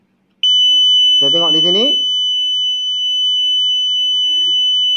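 Obstacle sensor buzzer on a robotic remote control car sounds as a loud, continuous high-pitched tone that starts suddenly and holds steady throughout, with someone talking over it.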